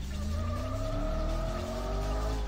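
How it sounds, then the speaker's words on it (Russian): A car in the PlayStation racing game Need for Speed High Stakes spins its wheels, a sustained tire squeal over a rising engine and exhaust drone, loud and continuous with no talking. "Охренеть, у него пробуксовка."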